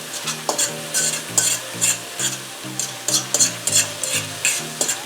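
Paprika and other seasonings being stirred into beef filling that sizzles in a pan for Jamaican beef patties. A spoon scrapes in a steady rhythm over a constant hiss and plays against soft background music.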